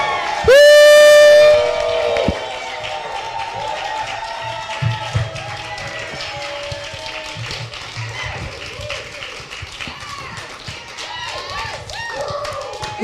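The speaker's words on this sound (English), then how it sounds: "put your hands together for the hosts of Black NewsBeat, Basir Vincent and Dr. Kimeka Campbell!" Studio audience clapping and cheering as the hosts of a news talk show are brought on, a loud steady wash of applause that keeps going after a brief bright musical sting at the start.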